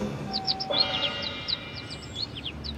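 Small injured bird in an animated children's story, giving a run of quick, high chirps and tweets spread through the scene, fairly close and clear over a soft background.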